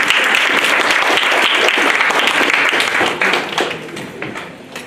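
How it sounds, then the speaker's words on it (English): An audience applauds loudly at a school farewell celebration, a dense steady clapping that fades toward the end. "So you can clap for yourself."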